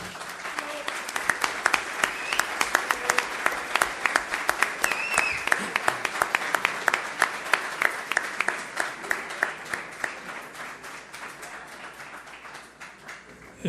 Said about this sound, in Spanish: Un aplauso para Julio Ramón.